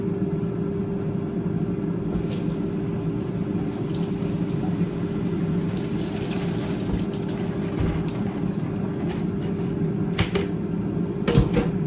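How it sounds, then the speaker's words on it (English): Steady running water from a tap, a continuous low rush with occasional clinks and knocks of dishes in a sink. "I rinse it off, and I run some water in it"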